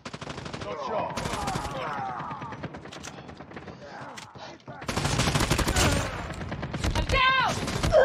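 Rapid automatic gunfire in Call of Duty Black Ops, loud continuous bursts of shots with explosions and game effects, a voice talking intermittently over the dense firing.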